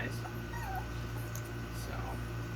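A week-old newborn puppy gives faint, thin whimpers and tiny yips, close by but quiet over a low steady hum.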